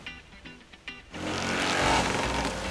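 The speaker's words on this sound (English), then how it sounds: "I recommend every farm to have a tractor like this one." A farm tractor's engine on a macadamia nut farm starts up close by and settles into a steady, loud rumbling drone after a few faint knocks.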